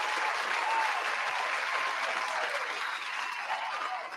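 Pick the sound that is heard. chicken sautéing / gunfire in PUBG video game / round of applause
round of applause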